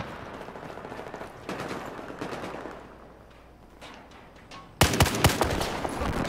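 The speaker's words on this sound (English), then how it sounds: "That's like a Barrett 50 right there. That's like a 50 cal." Heavy rifle fire in a video game, a weapon likened to a Barrett .50 cal, with scattered shots early on and then a loud, close burst of rapid repeated blasts near the end.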